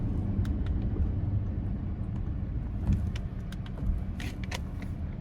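A 2013 Audi A8 L in sport manual mode runs with a steady, close engine drone and road rumble throughout, with faint brief clicks on top and no voices.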